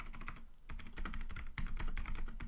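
Rapid typing on a computer keyboard during a Minecraft session, a dense run of crisp, close key clicks with brief pauses and no voices.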